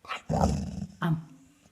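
A large dog sitting in an armchair vocalizes a growly "am-am" on command, giving two close, loud, short throaty bursts with a brief pause between them.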